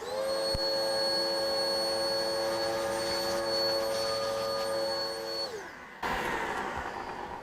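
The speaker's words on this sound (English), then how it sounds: "so I'm going to use the hoover" A vacuum cleaner whines steadily and loudly, then winds down and cuts off, leaving a brief burst of other noise.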